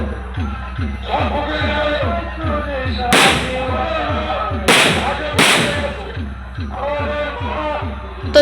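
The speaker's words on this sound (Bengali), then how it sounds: "দেখতেই পাচ্ছ কত সুন্দর জলের মধ্যে বাজি ফেটে যাচ্ছে" Fireworks bursting over water during a Kali Puja festival, with several loud sharp bangs rising above a steady crowd din and music, and people talking throughout.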